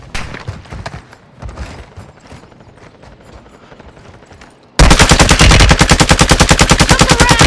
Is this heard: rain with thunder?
no